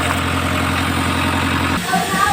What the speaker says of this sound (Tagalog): nakita nyo naman at napakinggan, mahaba ang cranking at pag nag-rev ka ay magkurog at parang maglagot-ot ang andar